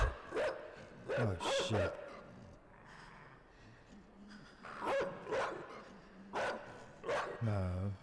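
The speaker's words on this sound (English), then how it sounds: "Oh, there's dogs there, that's why." Dogs bark in the video game Inside, several bursts of barking and yelps through the clip while a person talks in between.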